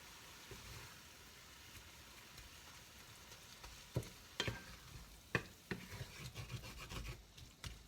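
Ground meat for homemade bierocks browns in a skillet with a low, subdued sizzle, joined by scraping and chopping strokes of a utensil that grow busier and louder toward the end; no talking.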